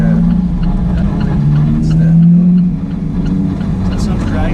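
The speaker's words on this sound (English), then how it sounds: "They don't hide any of the turbo sounds in this car either" An Alfa Romeo 4C turbocharged engine drones steadily at high volume, a sustained low roar with a rising whine partway through, heard from inside.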